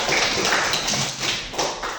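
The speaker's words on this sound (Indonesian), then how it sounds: "Oke, tepuk tangan untuk mereka." A classroom of students applauds, a dense, loud wash of many hands clapping together that keeps a steady level for about two seconds.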